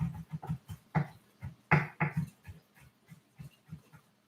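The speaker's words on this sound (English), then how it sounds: "that dog is real barky" A dog makes a string of short, rhythmic huffing barks and panting yelps, fairly close and moderately loud, with a couple of sharper, stronger bursts in the middle.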